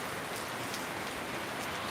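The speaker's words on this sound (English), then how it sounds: "That's a lot of rain" Heavy rain pouring down in a dense, steady hiss of countless drops, constant and fairly close with no speech over it.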